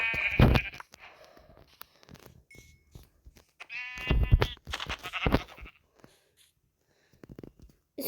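Sheep in a video game bleat in several short, loud, wavering calls near the listener, spaced between pauses and other brief game sounds, with no talking.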